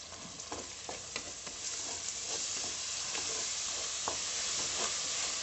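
Curd being stirred into spiced masala frying in a pressure cooker for chicken biryani, a steady close sizzle broken by repeated scraping strokes of the spoon, with no talking.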